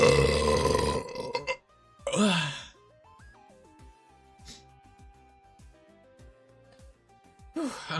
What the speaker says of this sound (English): each time I burp it feels a lot better